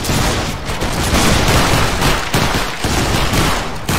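Massed musket volley from a line of soldiers in the video game Battle Grounds III, a dense, loud crackle of overlapping shots rolling on continuously for several seconds.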